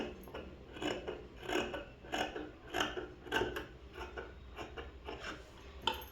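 Scissors snipping through cloth for a school uniform being stitched, a steady run of soft rasping cuts, close and quiet, with no talk.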